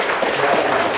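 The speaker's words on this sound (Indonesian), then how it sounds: "Tepuk tangan, luar biasa." A university seminar audience gives a short burst of loud, dense applause, filling the whole second without a break.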